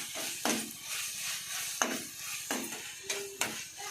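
Masala of chilli powder, garam masala and salt sautéing in oil for egg puffs, a steady sizzle broken by several sharp spoon scrapes against the pan at irregular intervals, close and fairly quiet, with no talking.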